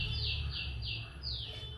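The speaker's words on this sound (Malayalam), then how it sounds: "കിളിയുടെ സൗണ്ട് നന്നായിട്ടുണ്ടാവും കേട്ടോ" A bird repeats a high, sweeping chirp four times in a steady rhythm, clear but fairly faint over a low background hum.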